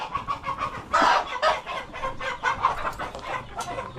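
Dekalb Brown chickens in a poultry setting in Paniqui, Tarlac, cluck repeatedly in short, rhythmic bursts, several birds close by and fairly loud, with no talk over them.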